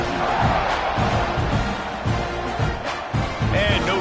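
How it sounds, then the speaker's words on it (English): A large crowd at a college football game between LSU and Texas A&M buzzes and roars in a dense, continuous wash of stadium noise. A broadcast announcer talks over the crowd throughout. "this crowd is buzzing after that last score"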